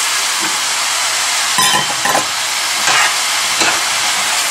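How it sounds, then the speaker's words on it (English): Diced fresh beans tip into a hot pan, raising a loud steady hiss and sizzle with a few scraping and rattling bursts as they are stirred, no voices. "And then in goes the beans, diced fresh beans."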